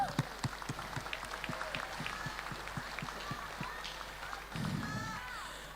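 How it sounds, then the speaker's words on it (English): Crowd applause at a 3x3 basketball finals ceremony, scattered claps and cheers from a modest audience, fairly faint and spread out, with a brief burst of crowd noise near the end. "A big round of applause for them."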